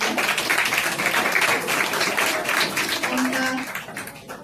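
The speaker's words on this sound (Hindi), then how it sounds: "तो इनके लिए भी जोरदार तालियां" An audience at an IIKD anniversary celebration breaks into loud, sustained applause. Many hands clap in a dense, steady patter that fades slightly toward the end, with voices faintly audible underneath.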